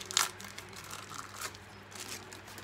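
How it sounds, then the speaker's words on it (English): A new motorcycle piston for a CT110 postie bike being unwrapped from its packaging, giving close, quiet crinkling and rustling with a sharper crackle near the start and scattered softer crinkles after, no talking. "Might unwrap this one, might make it a bit easier to see."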